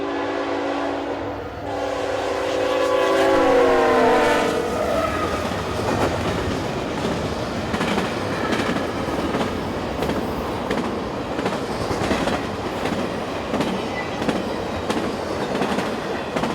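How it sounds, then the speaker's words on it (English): Southbound intermodal freight train led by ET44AH and AC44CW locomotives: a loud approach with a tonal horn-like blast early on, then a sustained rumble of wagons with clattering wheels and intermittent squeal, no voices. "a southbound intermodal powered by an ET44AH and an"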